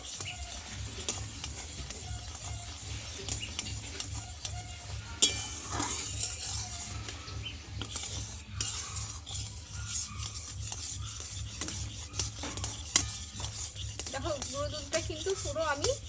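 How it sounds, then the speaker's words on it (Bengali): Milk powder being stirred into milk in a pan for mango laddus, with continuous rasping scrapes of a spoon against the pan over a low rhythmic hum, steady and close for about sixteen seconds. "এবার গুঁড়ো দুধটা দিয়ে ভালোভাবে একটু নাড়াচাড়া করে নেবো"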